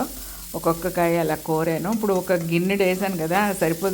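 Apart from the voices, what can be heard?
grated amla (Indian gooseberry) sizzling while frying in oil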